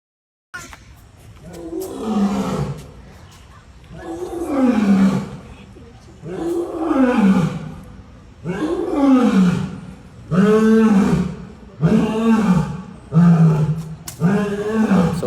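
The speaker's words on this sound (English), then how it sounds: "we got to see the lions roar, or hear the lions roar" Lions at the North Carolina Zoo give a series of deep, groaning roars in a rhythmic sequence, each grunt repeating at steady intervals, loud and fairly close, with no talk over them.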